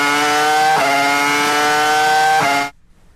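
A Formula 1 car engine revs high and loud in a strongly tonal, steady scream with brief shifts in pitch, then cuts off abruptly into near silence.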